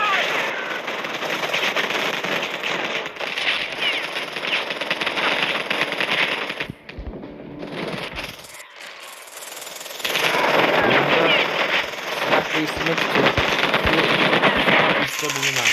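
Battle gunfire in the shooter game Polyfield: dense, continuous automatic fire and bursts, loud and close, briefly thinning in the middle before surging again, with a voice talking over part of it.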